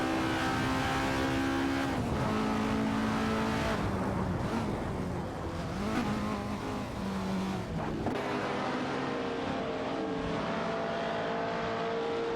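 Vintage racing cars, a Jaguar E-Type Lightweight and an Alfa Romeo, battle for position in an AI racing video game, engines droning loudly and continuously with rising and falling revs as they accelerate and shift, no voices.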